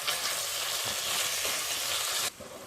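Spices, chili powder and salt being stirred into sizzling tomato rice masala in a pan, a steady close frying hiss with faint scraping that drops off abruptly near the end.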